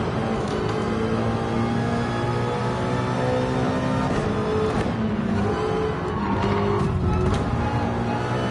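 In Gran Turismo 7, a race car skids and spins during a Le Mans race. Tire squeal and scraping sit over a constant roar of engines for several seconds.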